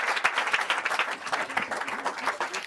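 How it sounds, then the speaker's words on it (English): Audience at a hypnosis stage show applauding volunteers, a continuous close flurry of many hands clapping with no talk. "Give them all a big round of applause."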